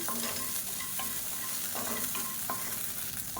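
Dry grains of salt scraping and rustling in a hot pan as they are dry-roasted and stirred, with a faint sizzle and repeated scraping strokes throughout.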